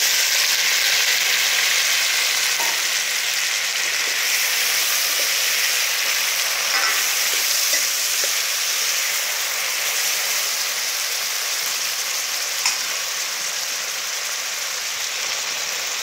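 Tomatoes frying with curry leaves in a pan, a loud bright hissing sizzle that stays steady and close with occasional small pops, no voices.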